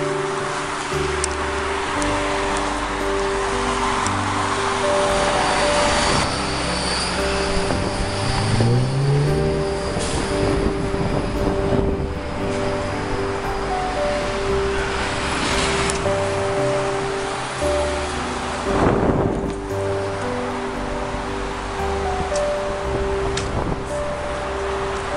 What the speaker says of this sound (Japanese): かなり車がうるさいです。